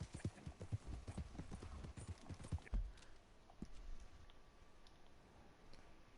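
Horse hooves clip-clop in a cowboy video game, the hoofbeats coming in a quick uneven rhythm at first, then thinning out to scattered faint steps against a quiet background.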